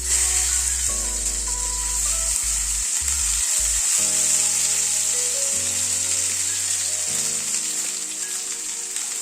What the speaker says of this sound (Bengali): কড়াইশুঁটি যে পেস্টটা করে রেখেছিলাম সেটা দিয়ে দিচ্ছি।